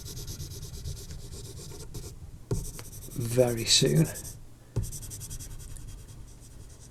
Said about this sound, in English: we'll soften this off using a 4B and 8B pencil